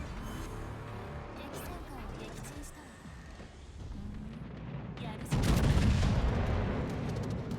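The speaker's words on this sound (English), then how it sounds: "I'm only gonna fire one gun at this." A single warship main gun fires in World of Warships, one sudden heavy boom near the end that follows quieter game ambience and someone talking.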